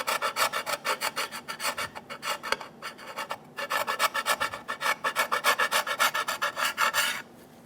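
A scraper works the gasket surface of a 2003-2007 Honda Accord 3.0L V6 intake manifold with rapid rhythmic rasping strokes, loud and close, breaking off briefly mid-way before a long steady run that stops abruptly near the end.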